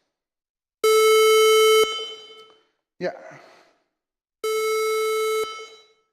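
Harsh synthesized oscillator tone generated in Ruby code, two loud buzzy sustained blasts about a second each with a short pause between, and a brief spoken word in the gap.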